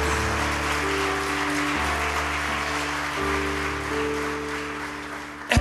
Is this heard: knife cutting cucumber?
no